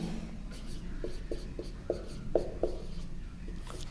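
Pen writing on paper during a Hindi maths lesson on number systems, a series of short, close scratching strokes in an uneven rhythm over a quiet background.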